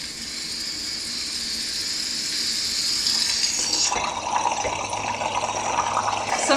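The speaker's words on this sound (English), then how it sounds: "Clear the steamer." An espresso machine steam wand is purged with a steady hiss that grows louder and then shifts into a rougher, gurgling rush of steam and water, continuous and close.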